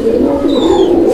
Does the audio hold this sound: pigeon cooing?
yes